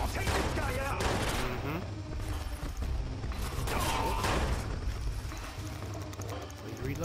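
Video-game gunfire trades back and forth in repeated bursts of shots, loud and busy throughout, with a voice talking over parts of it.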